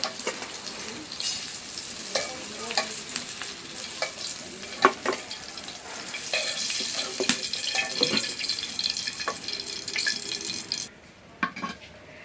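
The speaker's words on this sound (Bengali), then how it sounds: "মাছগুলি ভাজা নিলাম।" Fish fry in oil in a wok, a continuous loud crackling sizzle with scattered sharp pops and clatters of stirring throughout, ending abruptly near the close, no talk present.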